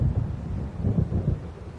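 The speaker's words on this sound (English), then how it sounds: "It seems there's a storm coming." Low, rolling thunder from an approaching storm in the video game Alan Wake rumbles fairly quietly in a few soft swells, with no talk over it.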